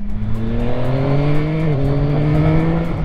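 A 2025 Yamaha XSR900GP motorcycle's engine and exhaust while riding, a loud, steady droning roar with a slight pitch shift midway, heard close with no talking.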